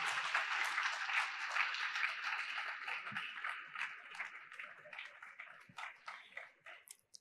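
Seminar audience applauding in a hall, a dense steady patter of many hands that stays fairly loud and gradually thins toward the end.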